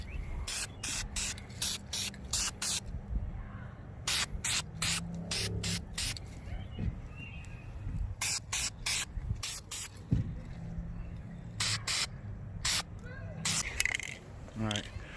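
Aerosol spray paint hissing in repeated short bursts onto motorcycle front brake calipers of a 2004 Suzuki GSX-R 1000, applied as a light dusting coat; close, crisp sprays with pauses between, low background noise throughout.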